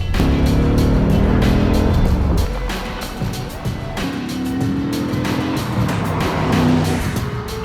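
A 1982 Honda Nighthawk 450 motorcycle out on a cruise, its engine loud and steady with gear-change dips and a rising pitch, joined by rushing wind noise close by.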